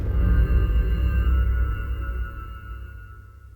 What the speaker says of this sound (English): sound the wither makes when it spawns in